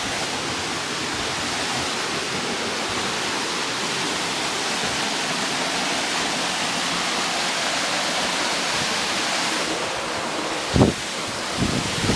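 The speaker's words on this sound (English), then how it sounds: "Let's go check out the waterfall." Waterfall at Heber pours in a steady, dense roar that fills the whole stretch, close and constant, with a couple of brief bumps near the end.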